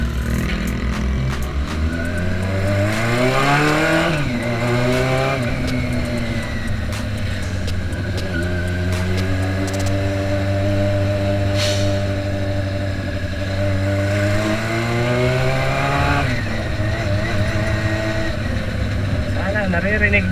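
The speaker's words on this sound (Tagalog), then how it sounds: "Sana naririnig nyo ako kasi sobrang lakas ng tambutso." Loud exhaust of a Honda CB400 cafe racer motorcycle roaring close up, revving up and down repeatedly with rising and falling engine pitch; a voice talks briefly underneath.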